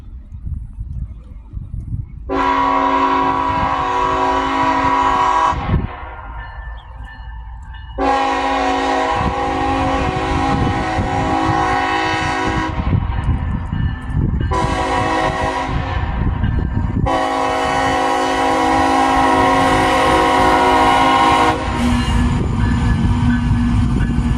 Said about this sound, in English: the first train would be CSXM 363